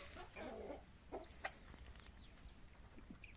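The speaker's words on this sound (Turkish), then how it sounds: "Elimizde tuttuğumuz horozlar." Faint clucking from a flock of kept roosters in a coop at dusk, soft scattered calls over a steady background hiss.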